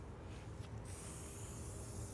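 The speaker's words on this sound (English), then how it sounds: "we sprayed everywhere with Lanox MX4" Aerosol spray of Lanox MX4 being applied across an uncowled outboard motor with side panels removed, a steady close hiss running throughout with a brief rubbing shift partway through.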